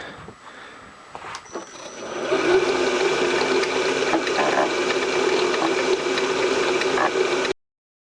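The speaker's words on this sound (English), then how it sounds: "let's thread our holes and see what we come up with" A tap turned with a ratchet threads holes in metal during a shaper attachment build, producing a sustained close run of rapid ratchet clicks and grinding mechanical whirr for several seconds before stopping abruptly, no talk.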